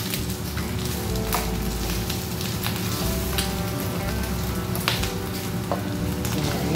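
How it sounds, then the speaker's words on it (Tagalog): Garlic sizzles and crackles steadily in a hot pan, a dense, continuous frying hiss with occasional sharper pops, close and fairly loud with no talking. "Para mag-prito-prito rin ang bawang"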